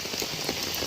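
Heavy rain in Kozhikode pours steadily onto surfaces, a dense, constant hiss of drops at an even, loud level throughout.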